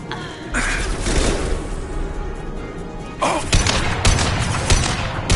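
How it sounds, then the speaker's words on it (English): Heavy high-impact gunshots in Mass Effect 2, a few sharp loud reports with booming tails spaced through the stretch, set against a busy combat background. "Firing a high-impact shot."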